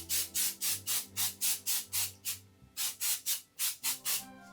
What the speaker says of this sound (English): I'm just gonna give it a little spray with some hairspray